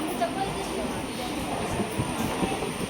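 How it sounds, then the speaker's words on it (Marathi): A train at Bandra Terminus station rumbles low and steady in the background, fairly faint, with a thin high electrical whine over the ambient station noise. "संपूर्ण आहे ना ट्रेन खाली इकडे"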